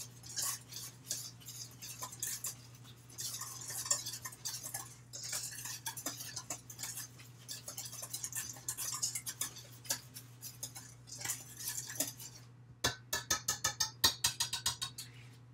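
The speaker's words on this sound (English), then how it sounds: "So now we can just give all of our dry ingredients a nice little whisk through." A whisk stirring dry scone ingredients for chocolate scones in a bowl, light rapid clinking and scraping taps close by, ending in a quick regular burst of sharper ticks against the bowl.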